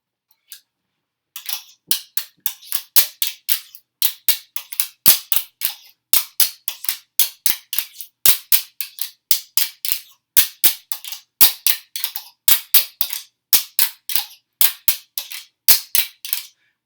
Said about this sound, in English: What we hear there is the guiro pattern